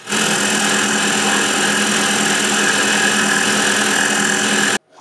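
A Tormach 8L lathe spins a long bar at 2,500 RPM, a loud, steady high-pitched mechanical whir and hum that holds constant before cutting off abruptly near the end.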